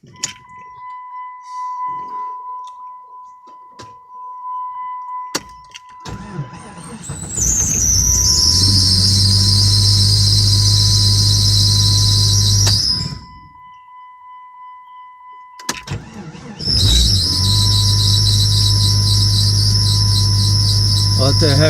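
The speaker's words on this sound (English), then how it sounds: "What the heck is squealing" A jeep engine lets out a loud, piercing squeal in two long stretches with a brief lull between, over a low engine rumble, close to the listener.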